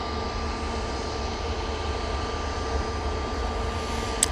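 Airbus A319 airliner departing Manchester Airport for Dusseldorf, a steady distant engine drone with a faint tonal whine, even in level from start to finish.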